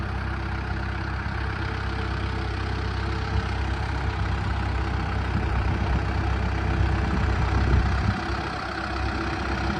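A tractor engine running steadily while a beginner drives it, a constant close, loud low rumble that holds without pause throughout.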